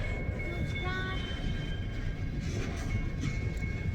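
A BNSF mixed freight train hauling lumber rumbles past at night, a steady loud roar with faint high squeals and ringing tones layered over the continuous rolling noise.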